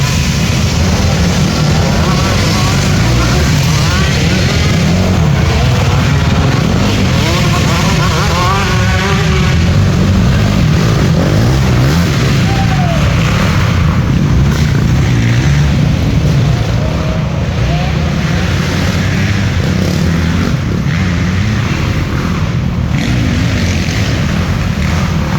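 Dirt bikes riding down and up a hill produce a loud, continuous engine roar that stays heavy and steady throughout, with small shifts in pitch as the throttle changes.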